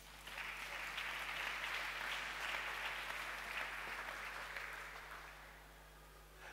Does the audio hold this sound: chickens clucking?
no